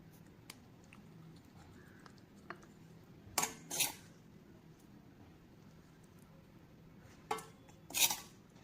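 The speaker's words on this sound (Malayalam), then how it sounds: "ഇനി ഇത് സ്പൂൺ വെച്ചിട്ട് നല്ലപോലെ പ്രസ് ചെയ്ത് അതിൻ്റെ ആ ഒരു നീര് മൊത്തം എടുക്കണം കേട്ടോ" A spoon presses a mixture through an old strainer set over a bowl, giving a few faint, brief metallic scrapes and clinks in two pairs against a quiet room.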